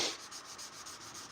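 Sandpaper rubs by hand across a forged knife blade in quick, regular back-and-forth strokes, close and fairly soft.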